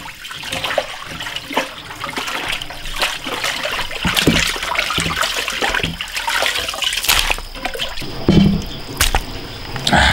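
Chicken rack bones are rinsed and rubbed in water in a rural kitchen, giving continuous close splashing, dripping and squishing with a few sharper knocks throughout.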